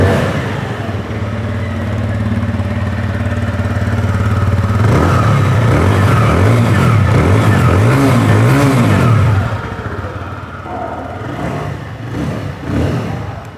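A 2022 TVS Apache motorcycle engine idles steadily, then is revved in a series of loud rising and falling pulses before settling back to a smooth idle with a last short blip.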